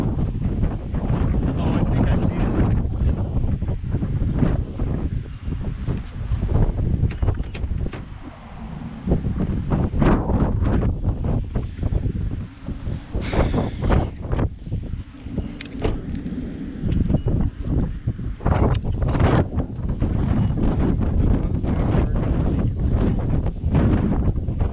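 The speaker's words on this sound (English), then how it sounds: "The noise of that wind is crazy." Strong, roaring wind buffets the microphone during a tornado chase in central Ohio, a continuous loud rush with gusting swells and heavy low rumble throughout.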